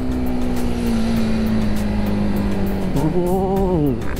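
A Honda CB150R motorcycle engine (2021) gives a loud, steady drone with a heavy low tone, then a sharp rev that rises and falls near the end, continuous throughout.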